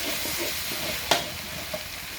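Pad see ew stir-fried in a hot wok, worked with a spoon and a spatula: a steady sizzle runs throughout, broken by one sharp metal scrape near the middle and a smaller clack toward the end, with nobody speaking.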